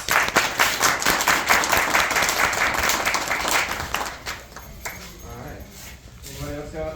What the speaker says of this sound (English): Let's give a big round of applause for the circle of druids